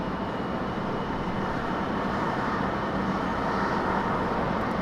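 A JetBlue airliner moves at Raleigh Durham airport, heard as a steady, unbroken broadband jet roar that holds at an even loudness throughout.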